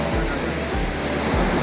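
A holy waterfall at the Indo-China border roars as a loud, constant broadband wash, with low rumbling undertones and no breaks.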